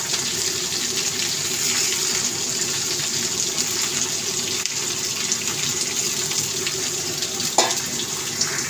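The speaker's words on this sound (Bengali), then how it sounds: "এবার জলটা দিলাম।" Water poured into a pan of cooking eggplant (brinjal) curry makes a steady, close rushing pour that runs unbroken throughout, with one brief clink near the end.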